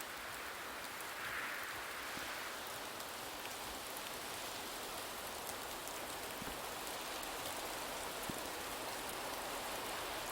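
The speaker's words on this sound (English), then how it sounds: "here comes the rain." Steady rainfall in the game Rising World, a continuous even hiss of drops pattering on surfaces, moderately loud and unbroken throughout with no voices.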